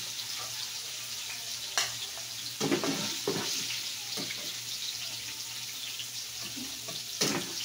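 Tofu frying in a pan, a steady close sizzle with a few louder spatters and clinks from stirring scattered through, and no voices.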